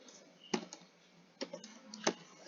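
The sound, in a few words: pressing enter and tab keys on computer keyboard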